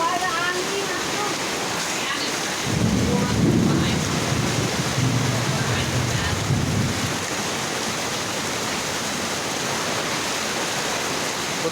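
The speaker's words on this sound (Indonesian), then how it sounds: "Hujan es." Hail and heavy rain driven by wind during a storm in West Bandung, a dense steady hiss with a louder rumbling surge in the middle, people talking intermittently over it.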